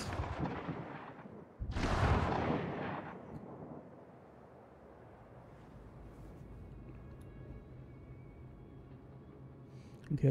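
Turret gunfire and explosions in a multiplayer video game sound like fireworks: a deep booming blast swells and slowly fades into a long rumbling tail, with faint crackles further off.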